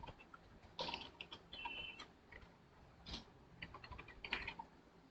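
Keystrokes on a computer keyboard as a dummy username and password are entered during a WordPress setup, a quiet, irregular run of light clicks in small bursts with short pauses, no voices.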